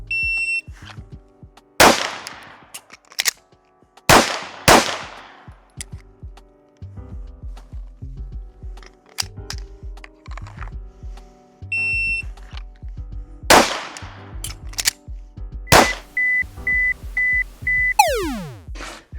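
Several sharp shots from a Springfield Echelon Comp pistol ring out in separated bursts at about 7 metres, with a pause and metallic magazine change between them, followed by electronic beeps near the end.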